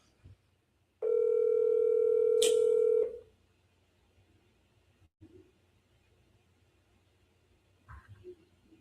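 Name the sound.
phone call dialing and ringing tone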